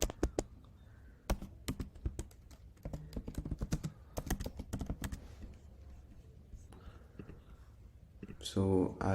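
PAN card details typed on a computer keyboard for an eKYC verification form on an NFT marketplace site: bursts of crisp, close keystrokes with short pauses, ending in a louder clatter.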